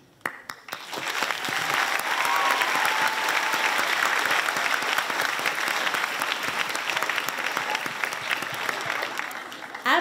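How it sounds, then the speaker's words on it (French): Audience applause at an awards evening for a video game design prize winner, a dense, steady clapping that swells quickly after a brief quiet start and sustains evenly throughout, with scattered crowd murmur beneath. "Applaudissons notre lauréat Laurent Archambault."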